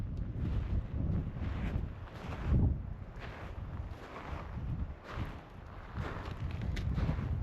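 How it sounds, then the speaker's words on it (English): Cold wind gusting across the microphone on a mountain trail to Gem Lake above Estes Park, a loud, rough buffeting roar that swells and eases in waves, close and alone with no voices. "that wind is frigid"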